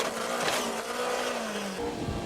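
A racing engine with its throttle stuck open gives a sustained high, strained drone at full revs, steady and loud, with faint squeal-like edges and no one talking over it.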